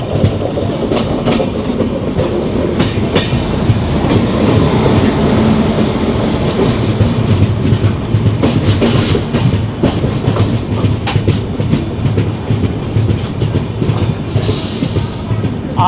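Kanchankanya Express passenger train running on rails, with a steady loud rumble and rhythmic clickety-clack of wheels throughout, plus occasional brief squeals and rattles from the carriages.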